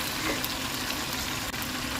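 Chicken wings simmer in a ketchup sauce, giving a steady, soft bubbling sizzle that holds evenly throughout at close range with no talk.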